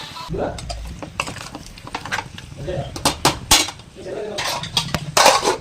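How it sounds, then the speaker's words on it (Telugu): A spoon scrapes and clanks against a pan as chicken curry is stirred after salt is added, in irregular close knocks and scrapes with a faint sizzle underneath. "చికెన్ కర్రీ కొంచెం ఫ్రై అయ్యాక అందులో నేను సాల్ట్ వేసాను. సాల్ట్ వేసి కలిపేసి"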